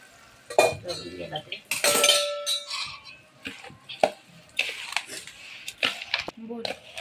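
A spoon stirring a traditional Khandeshi sweet pickle spice mix with salt in a metal pot, close scraping and clinking strokes in irregular bursts, with a voice talking briefly over it.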